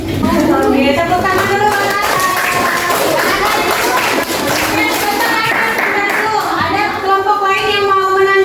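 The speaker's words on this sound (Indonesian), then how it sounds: "Oke, tepuk tangan dulu." A group of children clap their hands in a classroom lesson, rapid scattered claps running throughout, mixed with loud voices and chatter.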